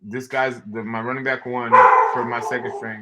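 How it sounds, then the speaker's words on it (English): Pet dogs barking indoors, several loud yaps and a whiny howl, close by and overlapping with someone talking continuously. "Sorry about my dogs."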